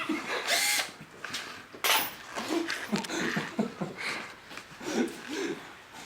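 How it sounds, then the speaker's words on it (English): A power drill whirs in loud, uneven bursts during work on a dump truck swap, each spin starting and stopping with rough mechanical noise close by. "Troy, are we calling this good to drill?"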